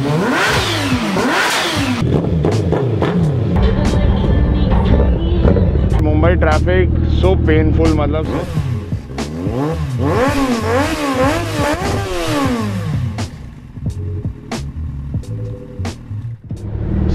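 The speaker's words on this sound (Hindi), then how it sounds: "अब मैं चलाने वाला हूँ गोल्ड विंग," Honda Gold Wing 1800cc motorcycle in Mumbai traffic, its engine rising and falling through several revs under a voice, along with other traffic sounds and a horn-like tone, loud and close throughout.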